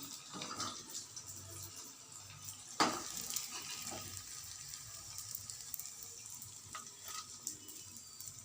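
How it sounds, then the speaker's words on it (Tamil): Potato-stuffed rolls made from maida and wheat flour fry slowly in oil over a low flame, a soft steady sizzle with a sharp crackle or clatter near the start and quieter pops afterward. "ஸ்லோ ஃப்ளேமில் நம்ம வறுத்தெடுத்தால் நல்லாயிருக்கும்."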